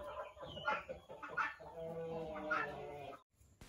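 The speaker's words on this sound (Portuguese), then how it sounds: "Essas galinhas, elas são o resultado do cruzamento do índio gigante com o gigante negro de Jersey." Chickens bred from an Indian Giant and Jersey Giant cross cluck and squawk close by in several rising calls over about three seconds, with a faint voice in the background.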